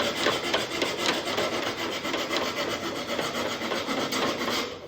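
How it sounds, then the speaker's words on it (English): A sanding pad rasps back and forth along the hull of a wooden Yukon racing kayak, making a continuous dry scrubbing sound that is close and steady and has no talk over it. "I may just kind of take a sanding pad to that"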